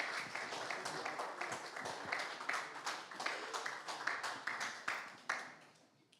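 Warm applause from an awards-ceremony audience honoring two women presenters, dense steady clapping across the room with scattered louder claps, fading out at the end.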